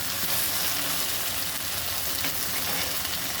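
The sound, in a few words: okra frying with onion and tomato for curry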